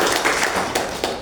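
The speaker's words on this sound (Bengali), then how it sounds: "প্রথম উপস্থাপকের জন্য একটা করতালি চাই।" Audience clapping for the first presenter at a talk, a short burst of scattered hand claps and taps, fairly close and moderately loud, a few sharper hits standing out near the end.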